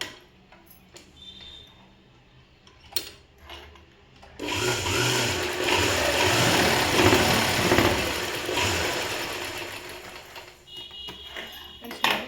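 A sewing machine stitching a folded hem on a school uniform, starting after quiet handling sounds and then running in a loud, continuous whir for several seconds before stopping.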